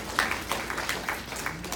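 An audience at a circuit court judge candidate's campaign talk breaks into scattered, moderate clapping that continues in uneven bursts for a couple of seconds, with no speech over it.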